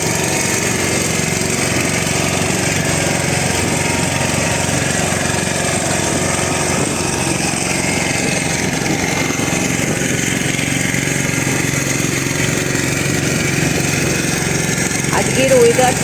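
A steady motor drones at mid pitch on Chilika Lake, likely from a steamer or small boat, holding a constant hum throughout while a person talks over it.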